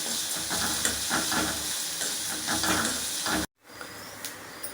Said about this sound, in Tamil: மிளகுத்தூளும் ஜீரகத்தூளும் அப்படியா லைட்டாக உப்பு சேர்த்துக்கவும் போட்டு வதக்கவும்